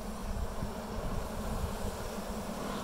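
A steady, low, continuous buzzing drone of honey bees inside a hive, close and unbroken, with no talk over it.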